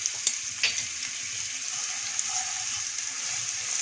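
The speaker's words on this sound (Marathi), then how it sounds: "मोहरी तडतडली की फोडणी परफेक्टच बनते." Mustard seeds crackle and pop in hot oil for a tempering while making traditional sweet-and-sour aluche fatfad, a steady close sizzle broken by a few sharp snaps.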